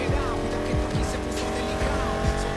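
Car engine in the racing video game Need for Speed Heat, droning steadily with brief tire squeals and pitch sweeps, loud throughout.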